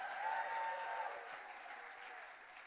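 A sparse smattering of applause from a few people in a folk festival crowd during a live set, soft and fairly distant, with someone talking over it.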